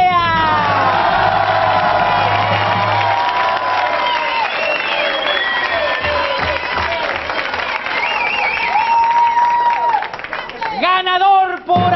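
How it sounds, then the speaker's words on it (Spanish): A game-show audience applauds and cheers with shouts and whistles, loud and continuous, while voices call out over the noise. "aplauso para don Pepe Necochea"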